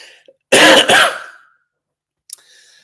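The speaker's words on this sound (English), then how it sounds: "you are going to have to put up with me coughing every so often" A person coughs and clears their throat in one loud, close burst lasting about a second, with a faint short sound trailing after a pause; nobody speaks.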